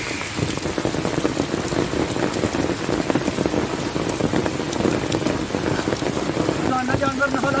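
Heavy rain pours steadily on surfaces in a village, a dense continuous hiss throughout with a few louder splashes, and faint voices or other sounds rising near the end.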